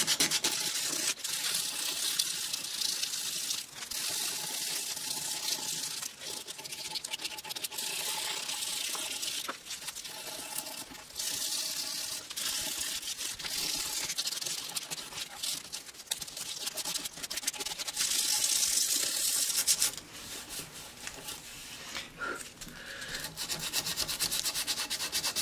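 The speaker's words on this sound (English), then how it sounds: "come in with the sandpaper" Sandpaper rubbing steadily over the carved wooden top of a Telecaster guitar, a continuous close scratchy hiss with rhythmic back-and-forth strokes and no talking.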